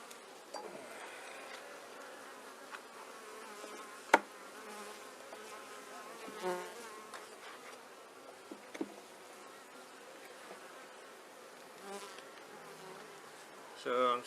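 Honey bees buzz steadily around an open hive during an inspection, a continuous close droning swarm with a few brief louder bumps and knocks near the hands, no talking.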